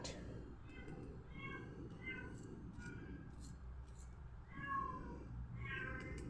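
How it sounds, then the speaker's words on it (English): A cat meows repeatedly in short high cries over a steady low background hum, with a few sharp clicks in between. "that is my cat, and he always shouting"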